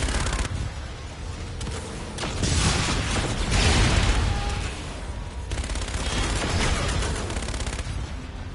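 Video game gun weapon firing in bursts of rapid shots with mechanical clacks, loud and close over a busy battle soundscape.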